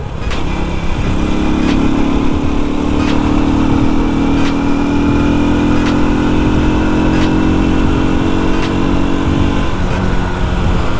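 A Rusi Surf 125cc scooter engine drones loudly and steadily while riding, with the engine note rising and falling slightly and constant wind rush. No voices are heard.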